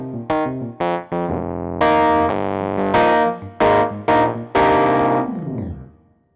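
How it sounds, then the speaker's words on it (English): A Korg SV-2 stage piano's overdriven tweed amplifier model, playing a series of gritty, distorted electric piano chords and stabs with short gaps between them, close and loud, ending in a decaying held chord, no talking. "you can start driving it and get that really nice overdriven sound like this"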